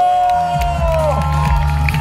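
Cheering and clapping from a crowd at an autumn sports day event, loud and continuous, with a tonal musical sound and a low hum running underneath.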